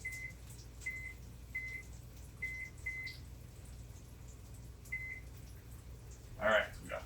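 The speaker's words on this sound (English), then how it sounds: "Timer." A kitchen timer beeping: about half a dozen short, faint electronic beeps at irregular intervals in a quiet room, followed by a brief louder clatter near the end.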